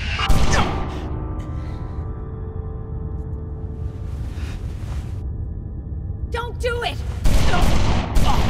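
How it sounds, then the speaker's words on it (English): Gunshots from Still Life 2 crack sharply at the start and again near the end, with an interval of quieter background between them and bursts of loud, close impact. "Drop your fucking gun now or I'll shoot!"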